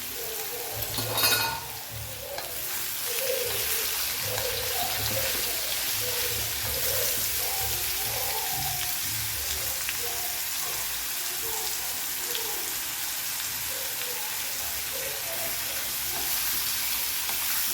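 Boiled potatoes fry in oil with salt in a pan, a steady close sizzle with scraping and clattering stirring strokes throughout, and a brief louder clatter near the start.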